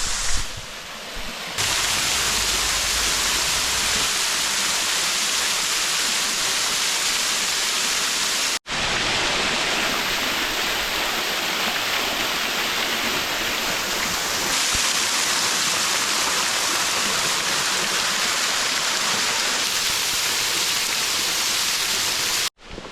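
A waterfall and stream in Tillamook National Forest give a loud, continuous rushing roar of falling and flowing water, heard close and alone, broken by two brief cuts.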